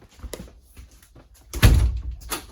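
The bathroom door of a 2019 Keystone Springdale 252RL travel trailer opens with a few light clicks and taps, then a solid thunk of the door moving in its frame, close by in a quiet interior.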